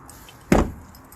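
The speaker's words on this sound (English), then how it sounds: "just to show you that the door is closing and opening" A single sharp thunk from the front passenger door of a 2004-2008 Honda Pilot as it shuts, close and fairly loud, with a short fading tail and no talking.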